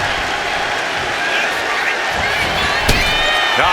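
A wrestling arena crowd in the WWE 2K25 video game keeps up a steady roar of cheering and applause, with a sharp slam-like thud near the end, while a commentator talks over it.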